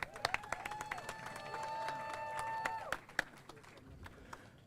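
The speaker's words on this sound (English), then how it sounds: "give him a warm round of applause" An audience at the Remembrance Park reveal gives a welcoming round of applause for Congressman Alexander Green: scattered claps over sustained tonal sound, fading out in the last seconds.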